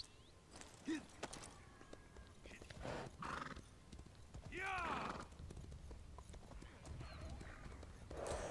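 A horse in the Elder Scrolls Online video game clip-clops along and gives a rising whinny partway through, fairly quiet game audio with no speech.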